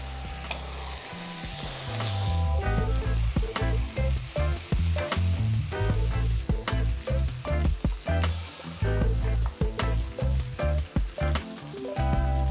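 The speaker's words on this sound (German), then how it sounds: "Und braten unsere Zucchini in der Pfanne goldbraun an." Loud, steady sizzling of zucchini frying in hot olive oil in a pan, close up, with a busy crackle running throughout and no speech.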